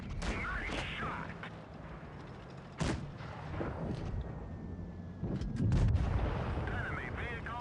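Tank cannon shots in the video game World of Tanks Blitz, several heavy booming blasts spaced a few seconds apart over rumbling battle noise, with in-game voice callouts between them.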